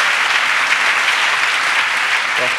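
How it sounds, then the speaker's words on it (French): Congregation clapping during a church revival service, a dense continuous burst of applause from many hands, loud and steady throughout. "Clap for Jesus Christ."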